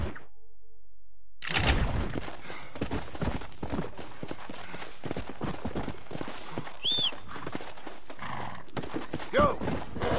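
Hooves clip-clop in a quick galloping rhythm in Red Dead Redemption, with a horse neighing partway through and a busy, layered background throughout.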